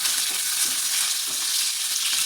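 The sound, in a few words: curry leaves sautéing in hot oil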